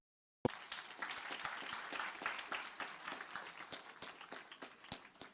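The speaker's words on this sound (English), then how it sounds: "Please give yourselves a round of applause." A school audience of students and administrative staff at Guys Hill High School applauds after a call for a round of applause, with dense, close clapping that starts abruptly and holds steady to the end.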